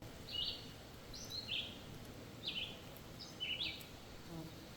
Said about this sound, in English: All you hear is the birds.